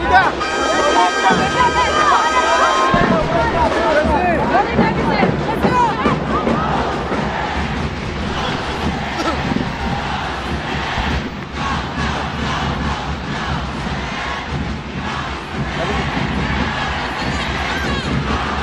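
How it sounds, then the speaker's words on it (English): UST and DLSU crowds at a UAAP women's volleyball match cheer and chant loudly and continuously, a dense roar of many voices with a commentator talking over it. "UST crowd trying to pump up their team to come back here"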